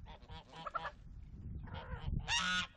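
Several geese honk in harsh, nasal bursts, two or three calls close together and then a louder honk near the end, close by over a low rustling background.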